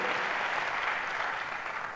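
An audience at a team-building session gives steady, dense applause for Vic, sustained throughout and slowly easing.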